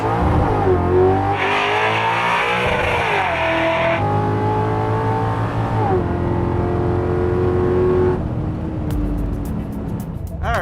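A lightened Chevrolet Camaro with a swapped 700-horsepower engine accelerates hard, its loud engine note climbing through several gear changes with brief drops between shifts, recorded close from inside the car.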